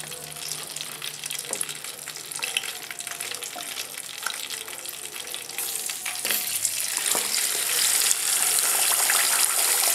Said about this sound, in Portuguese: Enquanto ele frita aí, eu vou jogar essa água fora.